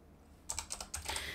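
Quick bursts of typing on a computer keyboard at a web designer's desk, a short run of close, crisp key clicks starting after a brief quiet lead-in.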